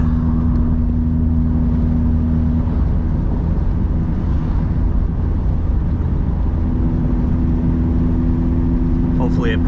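A Mazda ND Miata fitted with a Roadster Sport exhaust cruises at steady mid speed, giving a continuous low engine and exhaust drone heard from inside the car.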